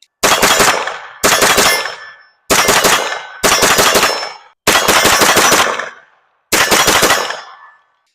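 Rapid bursts of gunfire from a MAC IX 9mm pistol-caliber carbine, six loud strings of fast shots separated by short pauses, close and alone with no talking.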